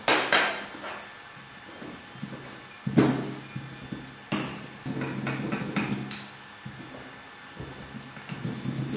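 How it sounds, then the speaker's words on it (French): Cumin seeds and star anise are crushed in a pestle and mortar, close up: irregular hard knocks and clinks, with gritty grinding between the strikes. "je les écrase en poudre dans mon pilon"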